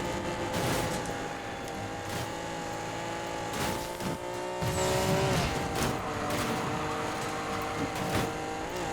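An Alfa Romeo Giulia race build with front engine, rear-wheel drive and 1,000 horsepower, driven in the Need for Speed Payback racing game, gives a continuous loud engine whine that shifts pitch through gear changes, mixed with tire noise.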